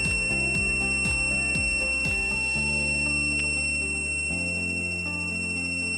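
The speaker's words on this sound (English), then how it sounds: "Now it knows that it should start ringing, so the buzzer will activate." Electronic buzzer ringing on a university final-year project rover, a steady high beeping tone sounding continuously up close over a low hum with repeated falling tonal sweeps early on, no talking.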